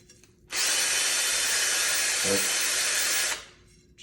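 A cordless drill spins a wooden arrow shaft against sandpaper while its stain and old paint are stripped, a loud steady whirring hum running about three seconds before spinning down, close by with no talk.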